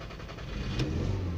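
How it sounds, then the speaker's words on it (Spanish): A 2013 Seat Ibiza 2.0 engine catches while held at full throttle, giving a dense, close, steady roar that swells slightly as it fires and stays loud to the end. "Tardó un poco, pero yo acelerando hasta fondo y ya arrancó"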